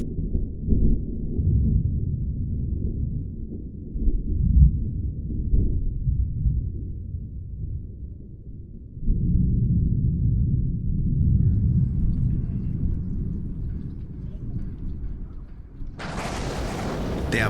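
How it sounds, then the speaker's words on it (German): Thunder rolls down from the mountains in deep, muffled waves of low rumbling, swelling and fading in long surges, with a sharper burst of noise near the end. "aus den Bergen ist bereits ein Grollen und Donnern zu hören"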